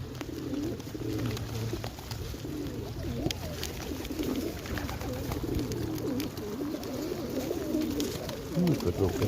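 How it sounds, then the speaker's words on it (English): Pigeons, including a white one, coo softly and repeatedly at feeding time, a low continuous burble of several birds nearby with faint scattered taps and rustles. "Oh, good little pigeons."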